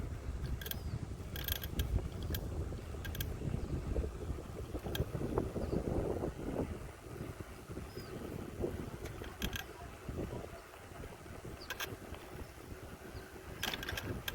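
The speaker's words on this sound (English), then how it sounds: "I know it's windy" Steady wind rumbles across the microphone behind the San Diego Natural History Museum, with occasional sharp clicks and rattles, a continuous outdoor roar without speech.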